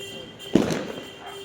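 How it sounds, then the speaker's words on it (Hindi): A single Diwali firecracker bursts with a short, sharp pop on a rooftop at night, moderately close, amid a low steady background hum. "हम आ गए थे छत पर पटाखे चलाने के लिए।"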